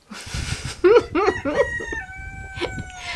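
A young rooster crows up close, with a rough, wavering cock-a-doodle-doo in a few broken bursts over faint background clucking and farmyard noise, followed by a thin ringing tone.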